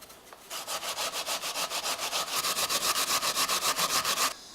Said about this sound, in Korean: 배를 깎아 강판에 갈고